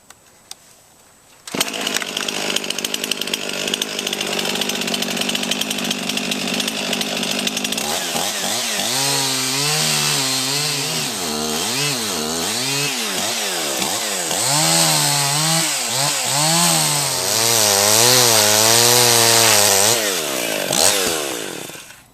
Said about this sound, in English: Let's get our chainsaw and cut this thing down.